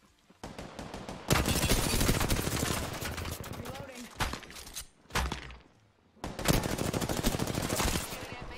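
Bursts of gunfire in the Apex Legends video game, loud rapid volleys with a brief lull in the middle, while a voice talks quietly underneath.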